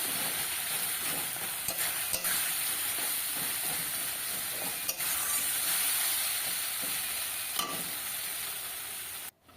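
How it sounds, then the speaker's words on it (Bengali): Boal fish curry masala sautéing in a pan with fried potatoes to follow, a continuous hissing sizzle broken by repeated scrapes and clacks of a stirring spoon, close and steady with no talking. "বেশ সুন্দর করে কষিয়ে নিচ্ছি আমি এখানে।"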